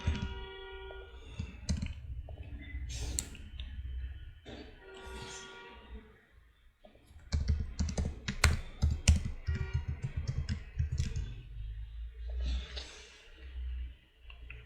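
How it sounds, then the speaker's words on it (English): Typing on a computer keyboard to enter a repository name before deleting it on GitHub, giving irregular bursts of quiet clicks with pauses in between and no talking. "Type the repository name and delete the repository."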